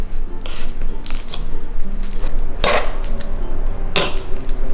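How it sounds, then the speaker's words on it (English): A ripe banana mashed for oatmeal, heard as close, wet squishing and crunching presses with a couple of sharper scraping strokes, loud and without talk. "I'm just gonna mash this banana"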